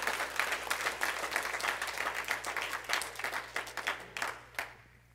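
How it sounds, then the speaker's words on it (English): A church congregation claps after a testimony, a fairly quiet but dense patter of applause that fades out toward the end, with a low steady hum underneath. "I think a testimony about getting saved deserves a round of applause myself"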